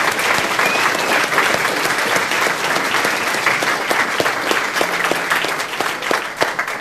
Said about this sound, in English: So I'd like a huge round of applause to them.